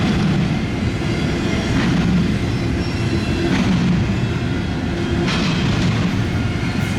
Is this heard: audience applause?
no